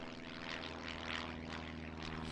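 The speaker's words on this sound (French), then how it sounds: "Heureusement, il y avait un avion violet dans le ciel." A propeller airplane drones steadily overhead, a continuous, moderately loud engine hum with a slight pulsing throb and no voices.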